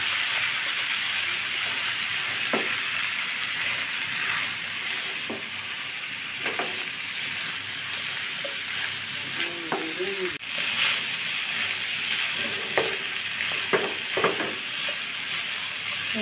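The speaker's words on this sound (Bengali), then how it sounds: "এর সঙ্গে আমি মাছগুলো একটু সময় নিয়ে ভাজবো।" Tengra fish coated in salt and turmeric fry in hot oil with a continuous, even sizzle. Occasional soft clinks and stirring scrapes come through above it.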